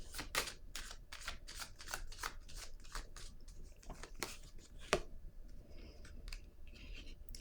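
Tarot cards being handled and laid down one by one, a quick series of crisp close snaps and slides, followed by quieter rustling at the end.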